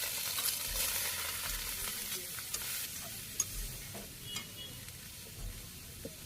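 Pieces of ash gourd sizzle in hot oil with cumin, dried chilli and a little ginger, a steady close frying hiss broken by a few soft stirring knocks, with no voices.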